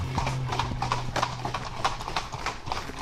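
Four-year-old trotting horses racing a 40 km championship at imposed speed near Uzès produce a steady clip-clop of hooves on the ground. The beat is rhythmic and continuous, with faint background noise throughout.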